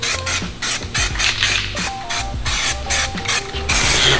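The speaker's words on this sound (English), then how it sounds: "Lightly spray all the bare metal, which there's a lot of, with etch primer" Aerosol can of self-etching primer sprayed in short repeated bursts onto bare car body metal, close and loud hissing with brief pauses and rattles in between.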